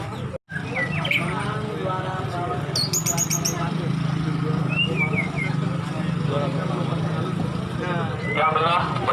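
Oriental magpie-robins (kacer) sing at a songbird contest, with repeated chirps and whistled phrases over a busy crowd of voices and background traffic noise.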